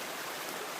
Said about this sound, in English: Love this stream.